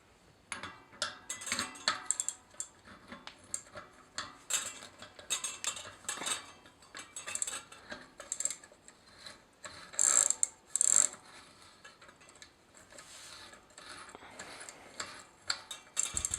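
Metal clicks and ratcheting ticks as an internal bicycle freewheel is threaded clockwise back onto a rear wheel hub by hand, close and fairly quiet, in irregular bursts with a few brighter metallic clinks.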